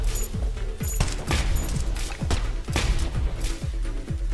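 Rapid gunfire from a weapon in the Neon Abyss video game, a steady run of punchy shots repeating about every half second over game music, with bright chimes breaking through now and then.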